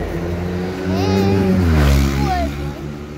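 A motorbike engine drones low and steady, its pitch rising as it revs and then settling back, fairly close.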